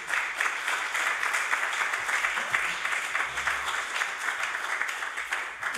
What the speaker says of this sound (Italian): chiedo un altro applauso a tutti